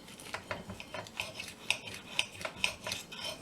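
A knife saws through the crisp crust of a country fried steak, giving soft raspy scrapes and light clicks of cutlery on a plate, faint and close.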